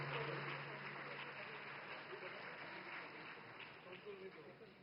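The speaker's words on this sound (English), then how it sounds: "Round of applause, ladies and gentlemen." A film festival opening ceremony crowd claps, a broad wash of applause that stays steady and gradually eases, with voices mixed in beneath it.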